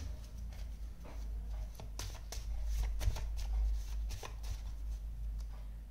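Tarot cards are shuffled close by, a run of soft riffling flutters and papery slaps in quick irregular bursts over a low background hum, faint and alone without talk.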